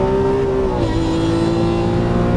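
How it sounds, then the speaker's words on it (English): A Lamborghini Aventador LP700-4 V12 accelerates at full throttle, a loud, close, sustained engine roar with a steady rising pitch and a brief dip partway through, with no talk over it. "now feet in the throttle, accelerate out, full throttle, all the way to the left. There you go, full throttle."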